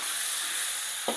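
Pork belly meat stir-frying in a pan with gohyong spice paste gives a steady, even sizzle and hiss, with a brief soft clunk of the meat going in near the end.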